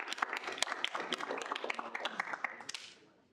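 Applause from a student senate meeting audience after a vote, a dense spread of hand claps running steadily for about three seconds before fading out, with no talk over it.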